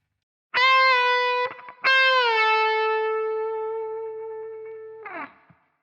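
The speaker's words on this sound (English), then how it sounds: "we're going to do it with some bends, specifically a semitone bend, and then a tone and a half" Two sustained, distorted electric guitar notes, each bent up in pitch and held, the second ringing out long before a brief scrape ends it.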